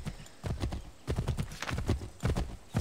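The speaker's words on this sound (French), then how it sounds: "on a un cheval" A horse gallops in Assassin's Creed III with rapid, loud clip-clop hoofbeats that come in bursts and carry on throughout, with a faint whinny mixed in.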